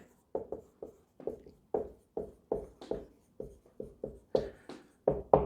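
A red pen writing on a surface during a literature lesson, a steady series of short scratchy strokes in quick bursts, close and clear with no talk over it.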